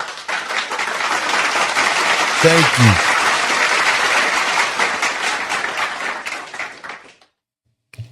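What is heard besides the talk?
applause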